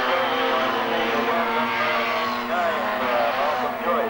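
Mini 7 race cars at Lydden circuit in 1987 roar past on track, a loud continuous engine drone with rising and falling pitches as the pack comes through, with commentary talking over it throughout.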